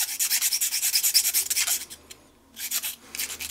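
A flat file rasps across G10 knife scales in quick, rhythmic back-and-forth strokes, bright and close, with a brief pause partway before the filing resumes.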